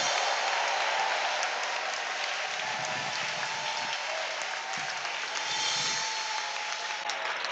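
A church congregation at a French-language service applauds and cheers in a continuous, roaring wash of sound, steady and loud, with a few low murmurs of voices rising beneath it.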